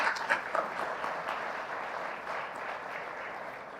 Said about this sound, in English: please join me in welcoming the Honorable Minister with a huge round of applause